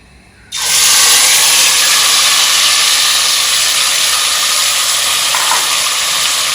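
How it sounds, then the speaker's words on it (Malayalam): Pumpkin hits hot ghee and sets off a loud, sudden sizzle that settles into a steady, bright hiss. "ഈ പംകിൻ നമുക്കിതിലേക്ക് ഇട്ട് കൊടുക്കാം."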